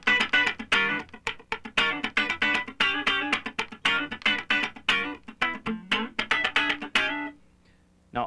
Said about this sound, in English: a little thing called a half-step slide